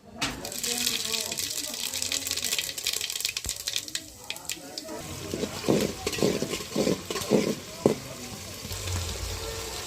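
Cumin seeds frying in hot oil in a pan, a steady sizzle with stirring scrapes and bursts of crackle, loud and close throughout, with a voice talking over it.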